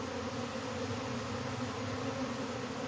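Honey bees buzz steadily around a hive built inside a cable box, a dense continuous droning hum close to the microphone with no talking.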